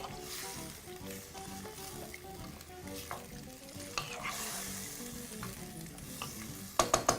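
Vegetable curry with stock bubbling and sizzling in a pot while a spoon stirs through it, a continuous close cooking hiss capped by a few quick metallic taps at the end.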